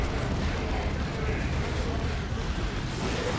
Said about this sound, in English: All right, we are going to see an orbital bombardment.